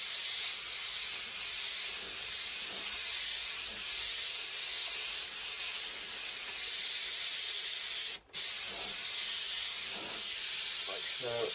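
An airbrush sprays purple paint onto a T-shirt in a loud, continuous hiss that cuts out briefly once near the end before resuming.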